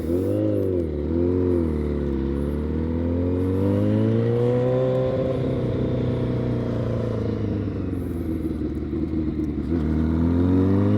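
A motorcycle engine revs continuously with rising and falling pitch sweeps during wheelie riding, close and loud throughout, with no talking.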